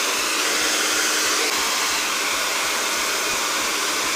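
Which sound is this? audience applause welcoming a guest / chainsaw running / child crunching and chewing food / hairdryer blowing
hairdryer blowing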